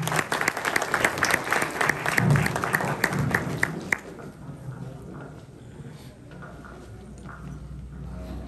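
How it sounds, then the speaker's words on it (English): Audience applause for a group of youth volunteer singers at a charity event before a national anthem, a dense burst of clapping for about four seconds that then drops away to quiet room tone. "Let's give them a round of applause."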